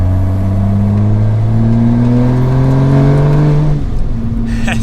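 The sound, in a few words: 600 WHP Toyota Supra wide body accelerating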